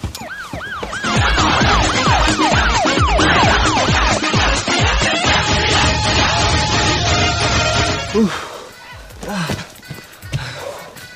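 An ambulance siren wails loudly in a rising and falling, repeating pattern for about eight seconds, then cuts off and leaves quieter, mixed background noise.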